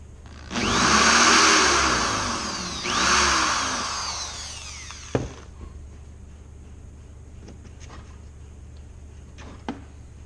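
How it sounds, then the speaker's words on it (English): A power drill whines through a metal bolt in two long strained bursts, then stops; faint clicks and taps follow in a quiet room. "the tricky part of drilling through the bolt"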